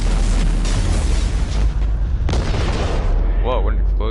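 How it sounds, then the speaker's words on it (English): A loud, sustained explosion in the video game Mass Effect 2 roars with rumbling blast noise and a sharp burst partway through. Voices speak over the tail end. "Whoa, what an explosion."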